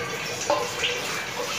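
Cold water poured steadily for kombucha, a continuous splashing gush without talk.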